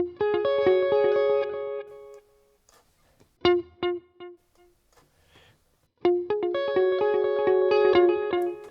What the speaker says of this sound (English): I've got my delays, I've got my reverb, which is going to be mostly always on.